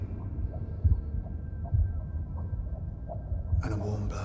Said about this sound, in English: Heartbeats.